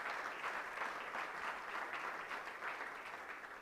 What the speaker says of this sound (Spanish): Dale un aplauso al Señor el día de hoy.